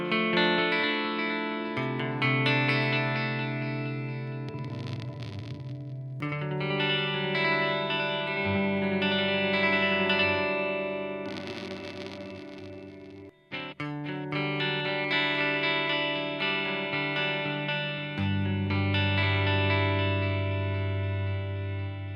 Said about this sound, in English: Which you can see that idea carried over into the flight delay with, you know, chorus vibrato and the off switch